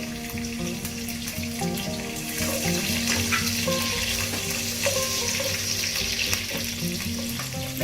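Green chillies fry in hot oil for Andhra-style mutton chilli, giving a steady, dense sizzle with light stirring and utensil clatter throughout.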